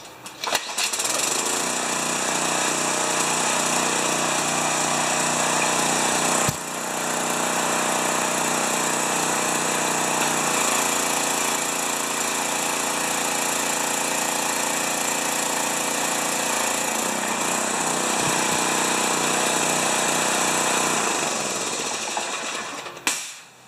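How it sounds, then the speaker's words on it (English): A Briggs pressure washer engine runs steadily at a loud, constant drone for over twenty seconds, with a brief dip in pitch partway through before settling back into its even roar. "Might be a little harder to start because"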